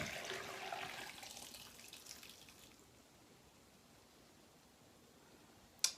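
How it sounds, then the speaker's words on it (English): Homemade elderberry syrup with berries and spices poured through a strainer, a soft liquid splashing and trickling that is strongest in the first seconds then fades to a quiet tail, ending with a brief sharp clink. "I'm going to go ahead and just pour that right on in to strain all those berries and of course any of those spices out"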